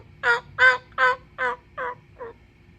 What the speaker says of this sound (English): I love wild turkeys